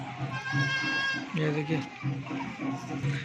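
Goats for sale at a goat market, bleating in a few wavering calls close to the microphone, with someone talking over and between them.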